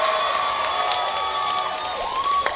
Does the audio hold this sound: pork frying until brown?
no